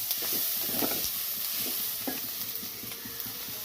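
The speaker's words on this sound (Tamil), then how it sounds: "பாருங்கள், நல்லா வதக்கிட்டு இருக்கோம். கிட்டத்தட்ட வெங்காயம் வதங்கிடுச்சு." Onions sautéing in a pan for a cuttlefish curry, with a steady broadband sizzle and several soft scrapes of stirring spread across a few seconds, close and moderately loud, with no talking.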